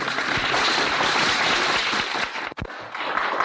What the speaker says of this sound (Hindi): ताली बजा लीजिए